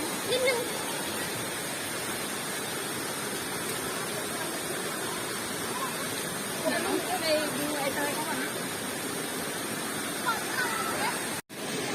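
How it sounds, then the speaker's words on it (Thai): Nan Sawan waterfall in Phatthalung, Thailand, pours as a steady broadband rush of falling water throughout, with people talking faintly over it and a brief cut near the end. "เห็นน้ำตกแล้วไง"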